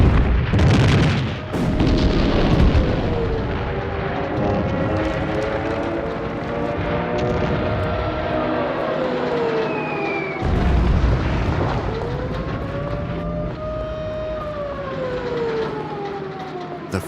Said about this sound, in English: On September 20, Hitler orders the bombing of Warsaw.